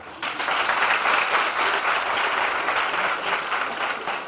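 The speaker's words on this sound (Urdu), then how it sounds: "تالیاں بجائیے گا، تالیاں بجائیے گا" Audience at a 2018 All Baltistan naat competition in Gilgit-Baltistan breaks into steady, sustained applause, a dense, even clapping that starts abruptly and holds at full strength throughout.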